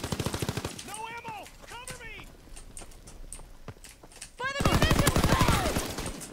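Rapid machine-gun fire in Call of Duty WWII multiplayer, loud bursts at the start and a heavier sustained volley near the end, with shouted speech between the bursts.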